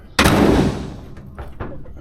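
A 1968 Cadillac DeVille hood slams shut with one loud, close broadband thud, followed by quieter handling knocks and clicks as the car is checked over.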